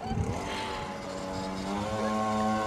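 A small, cheap motorcycle idles steadily nearby, its engine hum carrying a faint metallic rattle throughout, with no talk over it.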